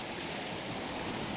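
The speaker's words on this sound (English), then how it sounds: "hopefully you can hear me above the babbling brook" A babbling brook beside a hiking path in the Carneddau near Aber Falls, a steady rushing, gurgling flow of water, close and continuous with no voices.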